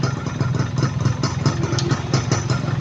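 A Kawasaki GTO 125 motorcycle engine runs up close with a rapid, steady putter and a slight clatter, loud and uninterrupted by speech.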